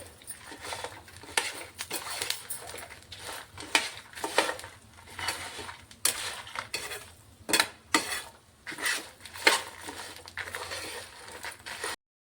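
A utensil clinks and scrapes in a pan while ingredients for coconut chutney fry on low flame with turmeric, irregular bursts of stirring over a faint sizzle, close and moderately loud.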